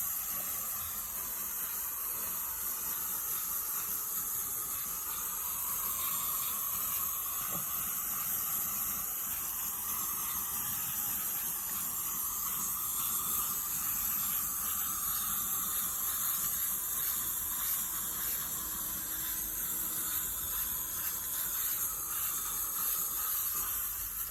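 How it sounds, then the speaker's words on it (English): A steady spray-paint hiss runs continuously throughout as a vintage dresser is painted, close and even, with no talking. "we'll just spray paint and dead easy"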